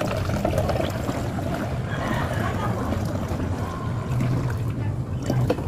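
A liquid probiotic mixture is poured into a container, giving a steady splashing, trickling wash up close that runs almost unbroken, with faint bumps of handling.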